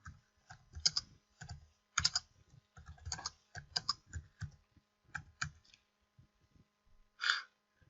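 Someone types a heading on a computer keyboard, with irregular clusters of soft, close keystrokes and small pauses over several seconds, then one longer, breathy-sounding stroke near the end.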